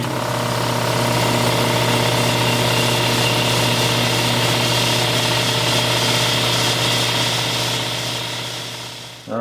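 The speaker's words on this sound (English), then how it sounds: "I drained all the air back out so that this thing will run nice and long" A running air compressor, warmed up after an oil change, drones steadily with a loud, even engine-like hum and vibration for the whole stretch, ending with a brief knock.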